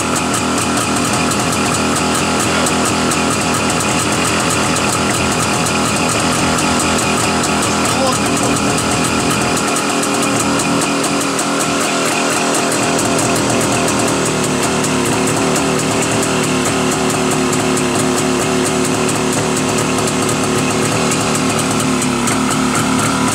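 A JAWA 350 chopper motorcycle runs its engine close by, a loud, continuous mechanical drone that holds steady for over twenty seconds, briefly thinning in the low end midway, with no talking.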